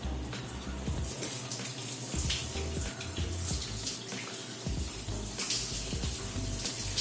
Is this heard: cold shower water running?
yes